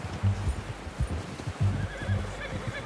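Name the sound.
horse neighing in video game Red Dead Redemption 2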